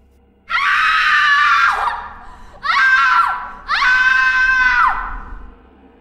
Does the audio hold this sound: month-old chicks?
no